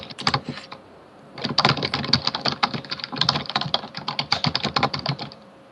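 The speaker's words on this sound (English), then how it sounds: "Someone's typing furiously." Fast, furious clatter of keys on a computer keyboard in dense bursts, a brief pause after the first flurry and then continuous rapid typing, close and clear.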